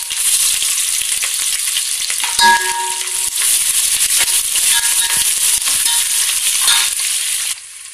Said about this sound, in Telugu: వీటిని వేయించుకోవాలండి దోరగా. నెక్స్ట్ పచ్చిమిర్చి ఇందులోనే వేసుకుంటున్నా